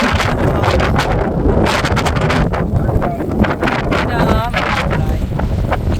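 Strong wind roars against the microphone at the seashore on Borkum island, a constant loud buffeting rumble with surf beneath, while a voice talks briefly through it.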